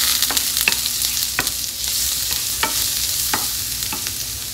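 Onions sautéing in a pan for chickpea curry, with minced garlic added, a constant close sizzle broken by several sharp clicks of a spoon against the pan at irregular intervals.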